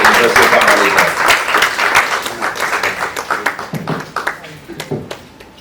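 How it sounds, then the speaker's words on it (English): Audience applause welcoming a speaker at a health app launch event at the University of Ghana, loud dense clapping that thins into scattered individual claps toward the end, with a voice talking over it. "Another round of applause as I welcome up here Dr. Bella Bello-Bitugu"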